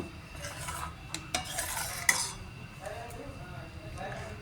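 Corn flour dough stirred in an oily pan, repeated scraping and clinking of a spoon against the metal over a soft sizzle, close and uneven, with a voice talking throughout.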